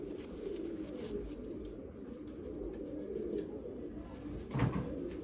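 Pigeons coo softly and repeatedly, low rounded calls over a steady background murmur, with one louder coo near the end.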